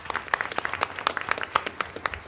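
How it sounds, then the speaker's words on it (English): A small group at a school board meeting claps for a retiring high school music teacher, giving scattered, sparse handclaps that stay fairly close and modest in volume. "we did give a level of applause, which deserves another, to Mr. Martin Griffin, a teacher of music"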